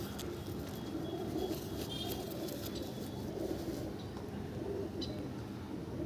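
Pigeons cooing in a loft of desi and Madras pigeons, a steady soft murmur of low coos running throughout under a dense background hum, with a few faint chirps.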